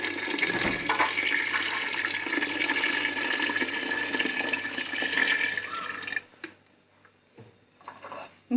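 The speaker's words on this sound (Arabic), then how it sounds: "نمرقها بماء يكون دافي لا سخون" Warm water pours steadily into a pot of couscous broth in a home kitchen, a loud continuous gush that stops abruptly, followed by a few faint clinks and splashes.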